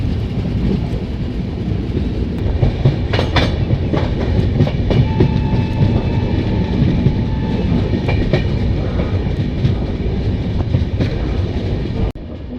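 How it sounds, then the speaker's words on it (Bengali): Kolkata–Radhikapur Express rolling along the rails, loud steady rumble with rhythmic clickety-clack of wheels over joints and a few sharp clanks, heard close from on board throughout. "ফাইনালি ট্রেন রাধিকাপুর ঢুকছে"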